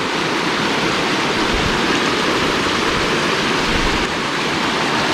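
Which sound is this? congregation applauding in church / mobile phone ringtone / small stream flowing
small stream flowing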